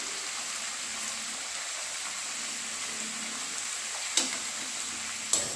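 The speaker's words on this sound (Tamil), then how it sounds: "இதை நல்லா வதக்கிக்கலாம்." Steady, even sizzle of chopped garlic and ginger sautéing in hot oil, with a couple of sharp clinks from a utensil near the end; no talking.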